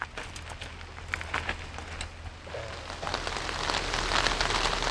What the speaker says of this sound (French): Sous la pluie battante